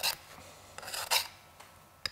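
A hardened burnisher drawn along the edge of a steel card scraper to raise a burr, a few short, close rasping strokes with a sharp metallic scrape at the end, quiet and without speech.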